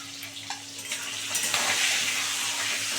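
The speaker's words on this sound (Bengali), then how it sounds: "ডিমটা ভালো করে লাল করে ভেজে নেবো" Eggs frying in a pan with salt and turmeric, a soft steady sizzle that swells slightly louder midway, with a faint hum and occasional utensil clinks.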